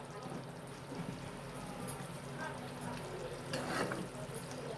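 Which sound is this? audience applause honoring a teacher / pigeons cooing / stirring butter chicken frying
stirring butter chicken frying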